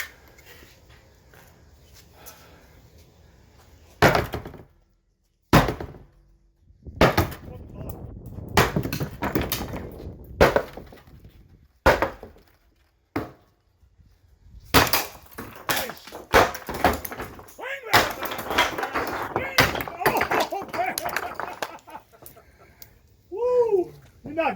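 A 2200 gallon aquarium with glass and a wooden frame is smashed apart: repeated sharp crashing blows, splintering and breaking, each followed by brief pauses, with people talking and calling out throughout.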